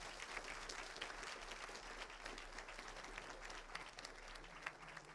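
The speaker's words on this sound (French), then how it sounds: "On peut quand même les applaudir pour ce premier échange" An audience applauds the directors Arthur Môlard and Joffrey Pilaud after a discussion of their work, a steady, even wash of many hands clapping that stays fairly soft and distant throughout, with no voices over it.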